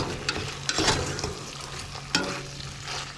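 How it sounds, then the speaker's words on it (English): Barbecue sauce being stirred into pulled pork in a pot, a few wet, sticky scraping strokes and soft thumps of a spoon over a low bubbling hiss, close by. "We like barbecue sauce, so I'm going to get this well mixed in here."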